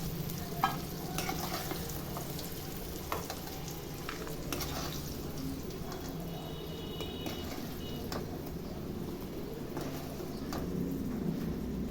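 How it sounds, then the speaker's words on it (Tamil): Potatoes frying in a pan with masala and salt, stirred with a utensil: irregular scraping strokes and small clicks over a continuous close sizzle, with no one speaking. "உருளைக்கிழங்கு பாருங்க, மசாலா உப்புலாம் போட்டு நல்லா பொரிஞ்சு வந்துடுச்சு"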